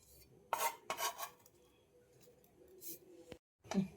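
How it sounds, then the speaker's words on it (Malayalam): A knife chops curry leaves in a home kitchen, heard as a few separate sharp cuts and taps on a board spread over a few seconds with quiet gaps between them. "ഇതൊന്ന് ചെറുതായിട്ടൊന്ന് ചോപ്പ് ചെയ്ത് നമുക്ക് ഇട്ട് കൊടുക്കും"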